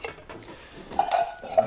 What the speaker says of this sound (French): Je peux même y ajouter une petite cuillère